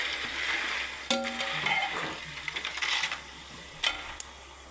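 Jackfruit chips fry in hot oil while being stirred, giving a steady close sizzle with sharp scraping clinks from the stirring utensil at a few moments.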